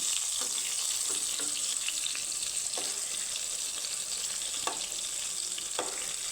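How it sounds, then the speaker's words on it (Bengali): Pieces of eggplant (brinjal) frying in oil give a loud, dense, continuous sizzle close up, with a few faint taps of a utensil against the pan now and then. "বেগুনগুলো কিন্তু মোটামুটি ভাজা হয়ে গেছে এক পিস আর একটু লাল করে ভেজে তুলে নেবো"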